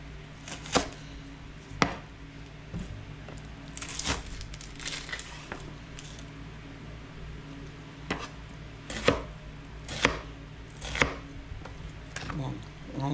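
Half an onion chopped on a cutting board, a series of sharp knife thuds spaced irregularly over quiet background, close and fairly loud, with no talking.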